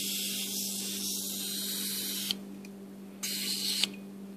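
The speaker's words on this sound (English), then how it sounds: "First, of course, you spray the rollers again." Two bursts of aerosol lubricant spray hiss onto garage door rollers, one long and one shorter, over a steady low electrical hum, close and fairly quiet.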